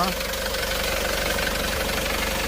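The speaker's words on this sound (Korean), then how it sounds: "엔진 소리 어때요?" A steady 2018 Chevrolet Cruze engine idles close by, a continuous low rumble with a faint regular pulse and no other sounds over it.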